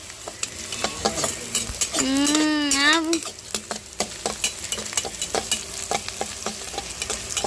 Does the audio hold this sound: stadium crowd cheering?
no